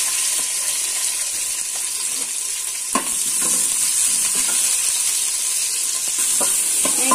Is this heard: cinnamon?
yes